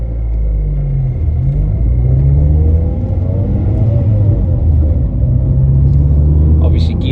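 The engine of a Ford Fiesta ST150 rumbles loudly from inside the car on its first drive after years in a scrapyard, with the revs rising and falling under close, continuous talking.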